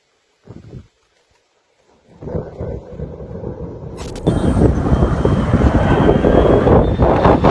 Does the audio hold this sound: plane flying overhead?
yes